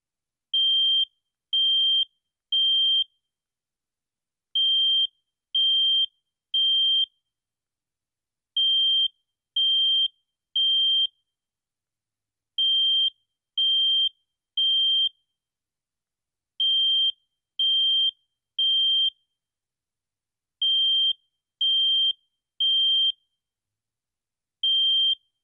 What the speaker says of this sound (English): I will initiate a fire alarm